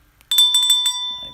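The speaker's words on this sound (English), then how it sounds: "Maybe the bell worked a little bit." A small bell rings in a quick burst of bright, metallic dings, several rapid strikes close by that then hang and fade, with a faint rustle at the end.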